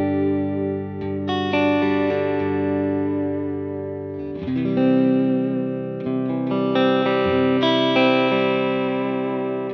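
Clean electric guitar tone from a Vigier Expert on the neck pickup through a Helix Native preset with chorus off, ringing chords and single notes played close and loud, with no voices.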